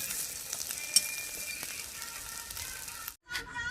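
Eggs fry in oil in a pan for a spicy masala egg curry, with a steady close sizzle and a sharp tap as they are turned, then a brief dip and a return of the hiss.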